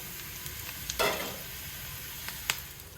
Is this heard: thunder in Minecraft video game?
no